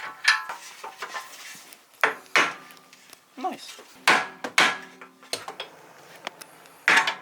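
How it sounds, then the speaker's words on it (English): Sharp metallic strikes of a hammer on a socket while loosening a suspension part on a 2023 Toyota A90 Supra with a manual transmission, several irregular close knocks with short exclamations and talk between them. "What I would do is just with the socket, hammer it just a little bit."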